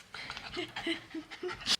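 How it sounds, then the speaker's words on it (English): Dogs with the zoomies pant heavily and rapidly up close, breathy rhythmic huffs with a few soft whimpers and a sharp yip near the end. "The dogs have the zoomies right now"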